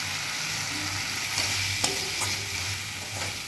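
Spice powders are stirred into frying sardine curry, the pan sizzling steadily close up while a few soft scrapes of the spoon cut through the hiss.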